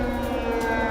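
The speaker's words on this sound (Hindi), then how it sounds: "पूरे यूक्रेन में गूंज रहे वॉर सायरन, कीव समेत 19 शहरों में गूंजे सायरन।" An air raid siren wails across a city in Ukraine, holding a loud, sustained tone with no break and no voices over it.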